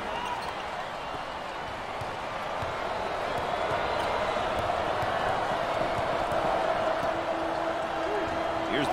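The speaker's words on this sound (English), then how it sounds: "Full house and a packed crowd, and they are into it tonight" A packed crowd at an ACC Tournament college basketball game between Louisville and Boston College keeps up a dense, steady roar of cheering, with basketball bounces faintly audible and a commentator talking over it.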